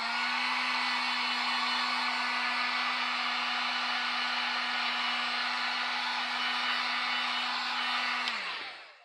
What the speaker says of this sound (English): What I do is I use my heat gun